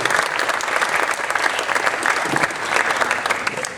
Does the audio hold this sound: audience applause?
yes